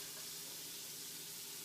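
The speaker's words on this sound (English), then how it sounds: "I'm just going to stir it for however long it takes for the onions to soften." Onions and garlic sizzling steadily in a pan while being stirred, a soft continuous hiss with no talking, fairly faint and even throughout.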